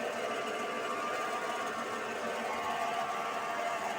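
The DC spindle motor of a 7x14 mini lathe converted to CNC runs at 1000 RPM, giving a steady whirring hum with a constant mechanical whine, close and even throughout with no pauses.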